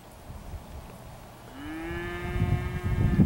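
Cattle at a livestock sale of Angus-cross steers and heifers in Georgia: a single loud, drawn-out moo starts midway and swells close by over a low, noisy auction-barn background.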